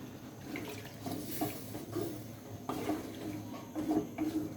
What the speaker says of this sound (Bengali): এবার আমরা ঝোলের জন্য পরিমাণ মতো জল দিয়ে দিব।